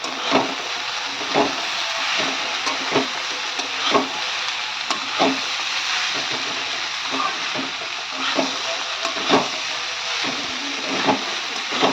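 Cabbage with boiled potatoes sizzles steadily in a pan while a spoon stirs and scrapes through it, giving regular knocking strokes over the continuous frying hiss, close and fairly loud.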